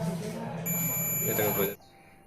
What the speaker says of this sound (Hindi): बीप मिला, मतलब ग्राउंड के साथ अटैच है